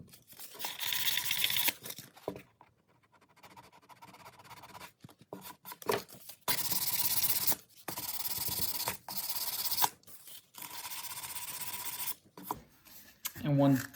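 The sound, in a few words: sanding caulk on baseboard trim with sandpaper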